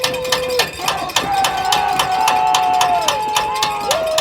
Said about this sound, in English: Cobras fans very loud here in West Roxbury, cheering on their defense.